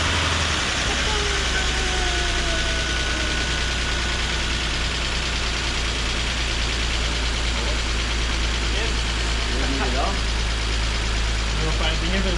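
A BMW E46 drift car's engine runs steadily just after its first start, a constant low rumble close by that holds throughout, with faint clatter and a few brief sounds near the end.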